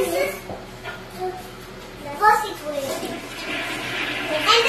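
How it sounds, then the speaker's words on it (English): A toilet flushes in a house bathroom, a rising watery rush that swells toward the end, with a child and an adult talking over it. "flushing."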